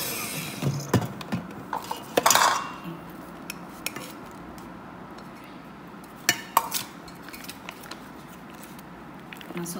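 Eggs being beaten until fluffy in a bowl for a cake, rapid clinking and scraping of a whisk or beater against the bowl in irregular bursts, close and moderately loud.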